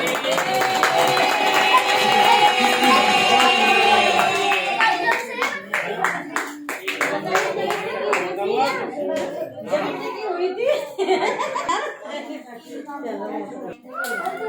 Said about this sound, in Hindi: बच्चों ताली बजाओ, ताली बजाओ।